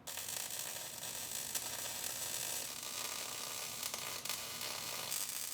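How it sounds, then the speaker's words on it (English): A seam is welded on the body of a 2013 Buick Enclave, making a continuous close crackling buzz with small irregular pops and no talking. "Keep welding our seam."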